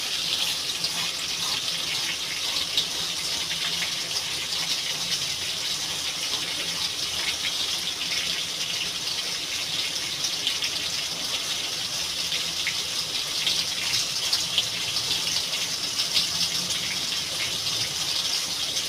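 Tap water runs continuously over cut kusi vegetable being washed, a steady close gushing hiss into the sink with no pauses or talk.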